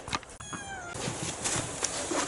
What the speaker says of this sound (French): Oh y'a un chat.